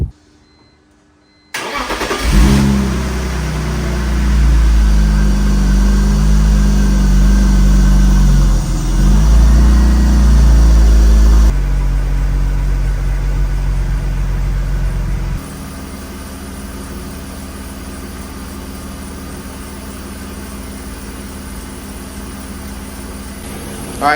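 A BMW 330i ZHP engine starts up and settles into a steady, loud, close idle with a deep rumble, then its tone drops and quiets slightly partway through; no one speaks.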